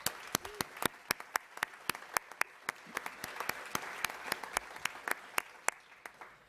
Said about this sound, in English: So let's give a round of applause to these 32 businesses whose storefronts always stand out.